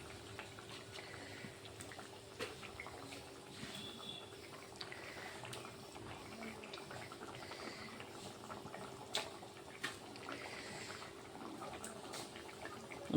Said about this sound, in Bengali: ফুটে গেছে, এখন আমি মাছগুলোকে দিয়ে দেব।